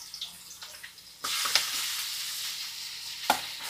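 Pork and onions hit a hot pan for a Filipino pakbet dish, sizzling loudly after a brief clatter, with a few scraping stirs and clinks of the utensil against the pan.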